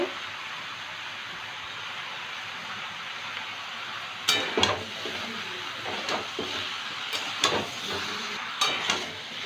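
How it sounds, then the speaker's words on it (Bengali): Bottle gourd stir-fried with spices in a pan gives a steady close sizzle, broken by several sharp scraping and clinking strokes as it is stirred. "লাউটা মশলার সাথে একটু কষিয়ে নেব"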